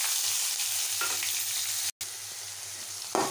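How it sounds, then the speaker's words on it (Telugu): Onions added to hot tempering oil for a capsicum prawn curry sizzle and fry loudly and steadily in a pan, cut by a brief dropout partway through, with no talk. "ఇప్పుడు ఉల్లిపాయలు వేస్తున్నాను"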